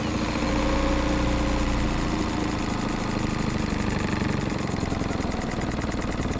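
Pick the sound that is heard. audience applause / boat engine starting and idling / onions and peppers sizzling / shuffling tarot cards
boat engine starting and idling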